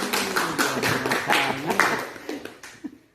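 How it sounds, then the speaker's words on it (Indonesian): A school gathering's brief round of applause, a dense patter of clapping hands from a group indoors, mixed with voices talking over it and tapering off after about three seconds. "yuk kita beri aplaus dulu"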